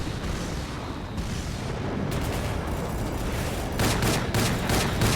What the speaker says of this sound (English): There we go, couple of headshots with our Magnum